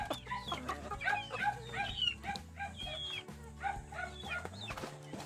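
Chickens and two-month-old chicks cluck and chatter continuously nearby on a rural farm, overlapping calls in a busy flock with a dog faintly present in the background.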